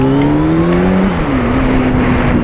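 A Kawasaki Ninja sport motorcycle engine gives a loud, steady drone with a smooth rising-then-settling pitch, running close and held at revs, with no voices.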